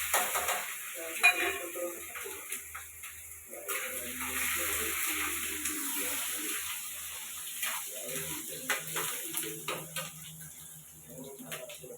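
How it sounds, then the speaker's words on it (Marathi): Cumin seeds, curry leaves and chopped onion fry in a hot pan for pithla, with a soft steady sizzle and repeated spoon stirring and scraping clinks, fairly close. "थोडे जिरे टाकते आणि कढीपत्ता टाकते कांदा टाकून देते"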